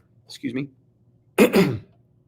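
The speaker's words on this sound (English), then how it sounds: "sorry, I had to cough there for a minute" Two short coughs, the second louder and harsher, close to the microphone with a brief pause between them.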